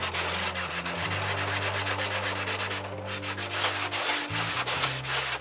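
Sanding block rubbing steadily across wooden center sheeting on a model aircraft wing, a continuous close scraping rasp with brief pauses and a low motor hum underneath, no talking.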